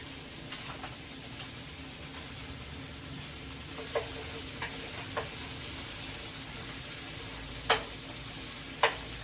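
A large batch of vegetables for pepper steak fries in a pan, a constant soft sizzle broken by several sharp pops and spatters, the loudest near the end.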